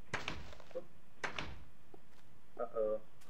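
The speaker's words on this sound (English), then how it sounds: "You want to put the doors from the outside looking inside." Wooden door blocks being placed in the Minecraft survival game give two short knocking thuds, then a brief creaky door sound, close and distinct with quiet gaps between.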